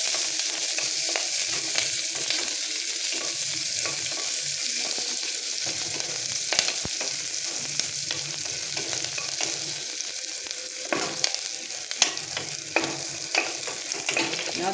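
Onion, curry leaves and red chilli fry in hot oil in a village kitchen, producing a loud, constant sizzle broken by sharp spluttering pops and the occasional scrape of stirring.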